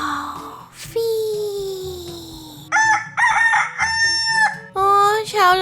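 A cartoonish rooster crows repeatedly in the mobile game Avatar World, giving several loud, close, drawn-out calls with sliding pitch, one after another.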